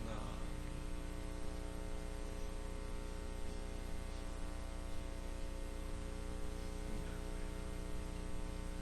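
A steady air conditioner hums through a church service hall, a constant low drone with faint static, continuous and unchanging throughout with no clear talk.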